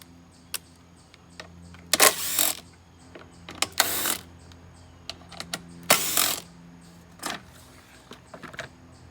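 Bolts are loosened with a 5/16 ratchet to remove the cover over a Briggs & Stratton carburetor, giving several short bursts of quick metallic ratchet clicking separated by pauses, with light taps and clinks in between.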